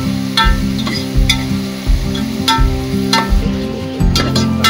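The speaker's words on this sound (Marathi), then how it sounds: "तेलामध्ये। खरपूस भाजीपर्यंत आपल्याला भाजायचं।" Chicken pieces frying in oil in a pan while being browned until crisp, with steady sizzling and repeated scraping stir strokes at a moderate, uneven rhythm, close and fairly loud, no talking.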